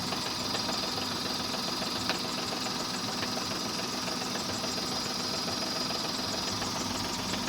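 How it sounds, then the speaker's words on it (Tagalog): A Hyundai Eon car idles steadily, its engine giving off a fast, even ticking knock over a constant mechanical hum, close and uninterrupted with no voices. "Tapos yung tunog ng makina niya mga sir, parang may ano na, katok na yung tunog niya."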